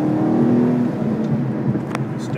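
Stock exhaust of a 2011 Ford Mustang GT, heard from inside the car while downshifting: a subdued low engine note that swells briefly and then settles, quiet overall.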